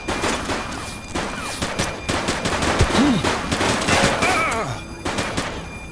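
Rapid gunfire crackles through a shootout in the police video game The Precinct, with dense bursts of shots layered under shouting voices and other game effects.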